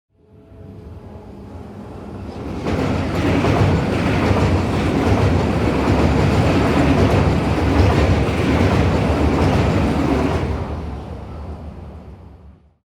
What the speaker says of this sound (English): The train pulled into the station and Libyan trembled to an abrupt stop